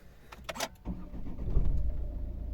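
A 2014 Volvo V40 with a 1.6 diesel engine being started: a few short clicks and chimes first, then the starter catches and the engine fires, settling into a low, rising idle rumble, close and clear.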